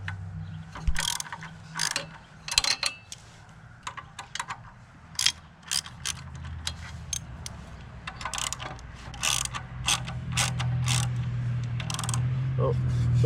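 A ratchet wrench removes 12mm exhaust mounting bolts on a Triumph Street Triple 765, with quick clicking bursts up close in uneven bursts over a low background hum.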